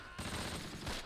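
Gunfire from the World War II video game Close Combat Last Stand Arnhem, in a field battle at Groesbeek Heights: a dense, continuous fusillade of rapid overlapping shots that starts abruptly and keeps going, with no voices.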